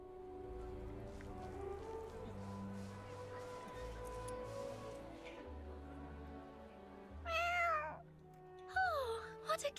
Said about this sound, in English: Oh, what a cute kitty.